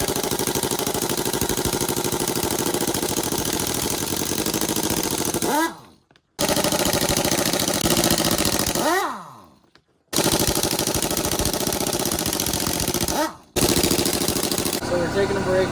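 An air-powered impact wrench hammers at axle parts on a Shelby Daytona build in three long, loud, rattling bursts, each winding down into a brief silence before the next.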